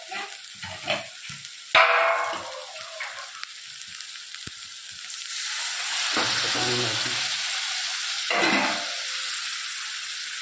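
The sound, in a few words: spices roasting and sizzling in a pan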